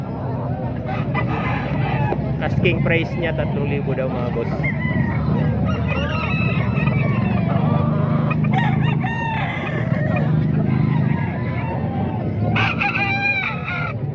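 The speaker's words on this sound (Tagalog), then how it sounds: "Mga manok to ni Buskin." Pet chickens and roosters at a yard sale crow and cluck repeatedly nearby, several birds overlapping, while someone talks over them.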